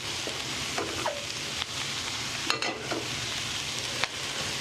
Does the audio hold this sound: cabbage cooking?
yes